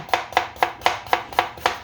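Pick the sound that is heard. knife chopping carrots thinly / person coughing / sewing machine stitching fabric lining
knife chopping carrots thinly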